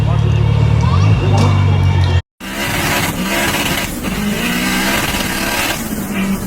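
Honda VTEC engine revving hard and accelerating at night, a loud rising engine note with a brief dropout midway, then continued strained engine roar with crowd chatter and voices in the background.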